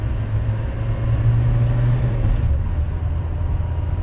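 A slow vehicle pulls away in a second-gear launch, its engine a steady, loud low rumble that holds at an even pitch throughout with no clear gear change.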